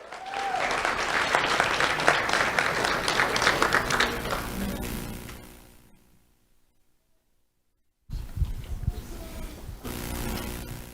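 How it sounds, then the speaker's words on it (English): An audience at the Do The Right Thing Awards, a sheriff's office ceremony honoring students, gives a dense, sustained round of applause that fades to silence, then a shorter burst of clapping resumes near the end. "Let's have a round of applause for Aaliyah Lorente."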